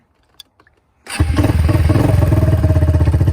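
Four-wheeler ATV engine cranks and catches after a few faint clicks, then settles into a loud, steady, throbbing idle and pulls away, close by with no talking.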